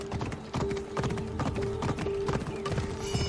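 Horse hooves clip-clop in a steady, close rhythm, a horse in Assassin's Creed Odyssey walking along with faint background tones.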